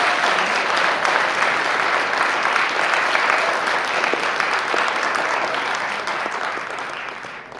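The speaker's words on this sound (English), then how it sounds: "Now let's give them a great big round of applause for all the years." A large audience at a naturalization ceremony claps in sustained, dense applause that holds steady and slowly fades toward the end.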